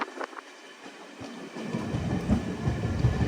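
A train heads toward Ayodhya Dham station, its low rumble rising out of near quiet and settling into a steady, rolling rattle of wagons that grows fuller and louder through the stretch, with no voices.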